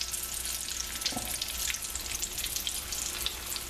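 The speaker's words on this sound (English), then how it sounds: "We're just heating it up and getting the outside crispy." Andouille sausage fries in a hot wok-type pan, giving off a continuous crackling sizzle with scattered pops and spits that carries on steadily at moderate volume, with no voices.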